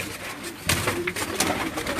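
Striped pigeons kept indoors on a rooftop loft in Qazi Ahmed, Sindh, coo in a low continuous murmur amid broadband rustle and clatter, with a few louder knocks or wing bursts.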